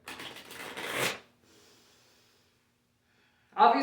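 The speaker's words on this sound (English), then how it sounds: "let's do 3 deep breaths together" Deep breaths taken slowly, a long loud inhale swelling to a peak, then a soft, fading exhale, followed after a pause by the start of another strong breath close to the microphone.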